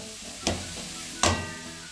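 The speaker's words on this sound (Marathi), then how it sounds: "मीडियम 3 साईजचे गाजर हे धुवून सालून टाकून घेतले. ते आपण त्यात फ्राय करूया." Peeled medium carrots dropped into a hot pan on high heat, two sharp sizzling bursts about a second apart, each fading into a softer hiss.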